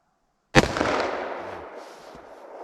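A single .357 Magnum round fires from a lightweight 20-ounce revolver outdoors, one sharp, very loud crack with a long decaying boom and echo trailing off afterward.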